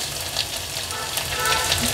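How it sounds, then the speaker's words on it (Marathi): Ginger-garlic paste, two spoonfuls, sizzling in a hot mustard seed and cumin tempering for matki misal, giving a steady close hiss that grows slightly louder toward the end, with no talking. "मी 2 चमचे आलं लसूण क्रश फोडणीला घातलं।"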